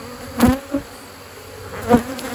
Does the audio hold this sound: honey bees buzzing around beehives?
yes